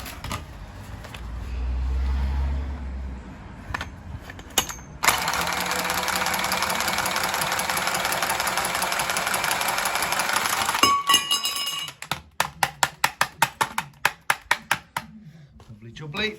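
A 28mm copper gas pipe is sawn through in a ceiling, a steady loud rasping cut of about six seconds with brief handling before, then a rapid series of sharp clicks after the cut.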